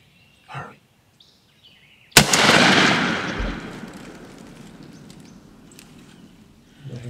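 A single loud shotgun-style blast during a Tennessee opening-day turkey hunt, sharp and close, followed by a long fading rumble; a faint voice comes just before it.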